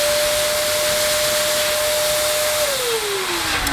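A Black & Decker DustBuster mini vac runs in blow mode with a loud, steady airy rush and a high whine, which slides lower in pitch near the end.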